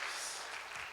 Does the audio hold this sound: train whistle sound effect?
no